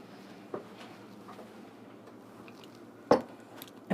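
A spoon is set down beside a chocolate mixed drink, giving a sharp clink near the end after a faint earlier tap, over a quiet kitchen background with no talk.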